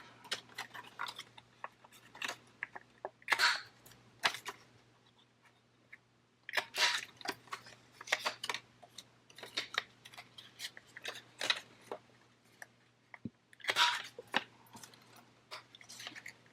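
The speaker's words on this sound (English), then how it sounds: "So I'm going to clip all the corners." A corner punch clips the corners of sheets of paper in a run of sharp snips and clicks, some single and some in quick bunches, close by against a low steady hum.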